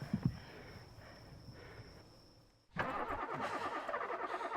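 A car engine in The Quarry cranks and catches, a soft rumbling lead-in followed by a sudden loud start into a steady, close, buzzing idle.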